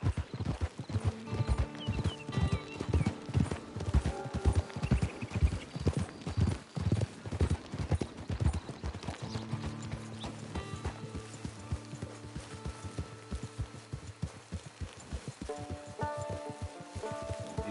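Horse hooves clip-clop steadily in Red Dead Redemption 2, a brisk close rhythmic trot that fills most of the stretch, easing and slowing toward the end.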